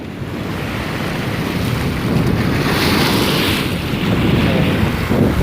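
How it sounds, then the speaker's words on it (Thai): Sea waves wash in along the Bang Pu seaside road in Samut Prakan, a steady broadband surf with strong wind buffeting the microphone throughout. "บรรยากาศยามเย็น นั่งดูคลื่นทะเล"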